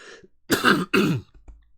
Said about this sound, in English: I need to clear my throat already.